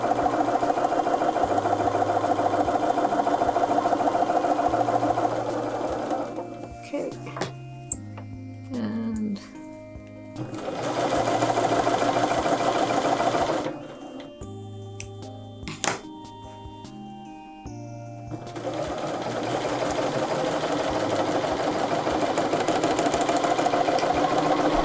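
A sewing machine stitches scant quarter-inch seams on a quilted table runner, running steadily in long bursts with short pauses between them, with small clicks and handling noises in the quiet gaps.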